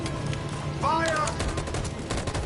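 Gunfire in the video game Detroit: Become Human, with a rapid, loud fusillade of shots rattling throughout the brief moment and a shout rising in the middle of it.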